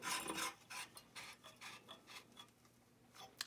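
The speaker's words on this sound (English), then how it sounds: "let's screw it into the socket so we can see what it would look like with a bulb in it" A lifeguard bulb being screwed into the socket of a GE Form 175 street light, a faint series of gritty rubbing, rasping turns with small ticks, close and quiet.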